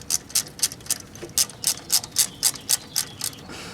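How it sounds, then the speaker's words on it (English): A ratchet clicks in quick bursts of about a dozen sharp, close ticks while loosening the camshaft chain bolts on a VW Audi engine, each stroke a crisp burst with brief pauses between. "I'm going to go ahead and remove all the 4 bolts that hold the camshaft chain in place"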